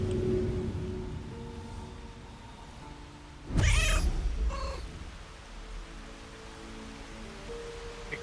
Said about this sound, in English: I think I attracted the kids here when I meowed